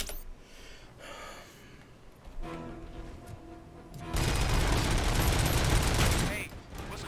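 Gunfire and missile blasts from the ED-209 robot in the video game Robocop: Rogue City, bursts building into a loud sustained barrage, with a player's breathing and gasps over it.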